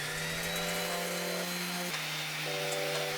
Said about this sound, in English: I could start sanding and smoothing the prints.